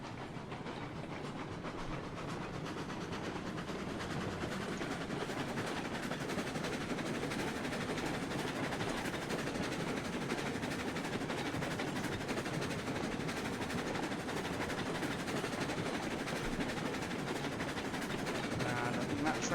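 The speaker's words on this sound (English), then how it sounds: "I think that train's almost arriving." A train rolls in during the railway game Railroads Online, a dense, steady rumble with rhythmic clattering wheels that stays loud and unbroken throughout.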